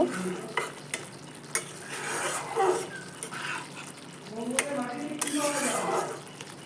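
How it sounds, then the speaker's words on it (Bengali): Turmeric paste is stirred into a duck egg curry in a pan, with repeated scraping strokes of a spoon against the pan over a soft sizzle, close up, with a voice speaking intermittently. "সেই গোলা হলুদটা এর মধ্যে দিয়ে নেব দিয়ে একসঙ্গে ভালো করে নাড়িয়ে দেব"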